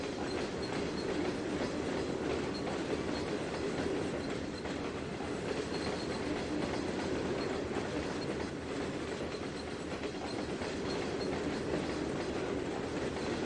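A freight train of tank cars and a blue CSX boxcar rolls past in Trainz 2022, giving a loud, continuous rumble and clickety-clack of wheels with no break and no voices.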